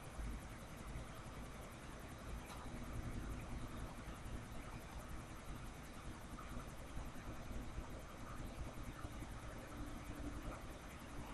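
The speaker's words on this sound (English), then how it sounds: "Let's do the helicopter." A helicopter in GTA IV gives off a steady, dense rotor and engine drone that holds evenly throughout at moderate level, with no talking over it.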